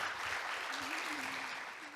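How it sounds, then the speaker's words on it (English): An audience at an academic session of a peace festival applauds the speaker and moderator, giving a continuous even clapping texture throughout, with a faint voice or tone running beneath. "another big round of applause to the speaker and the moderator"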